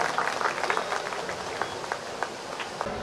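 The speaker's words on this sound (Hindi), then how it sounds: "एक बार इनके लिए भी जोरदार तालियों से स्वागत।" An audience claps to welcome a guest on stage at a live event at an Eicher tractor agency in Ellenabad, Haryana: a steady, moderately loud wash of crowd clapping with scattered sharper individual claps throughout.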